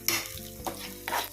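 Chana dal roasting in a pan for panikoorka chutney gives a quiet crackle, with a few sharp stirring scrapes of a spoon against the pan at irregular intervals.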